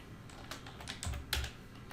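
Typing on a computer keyboard, a short run of soft, quick key clicks in an irregular rhythm, quiet and close with no speech.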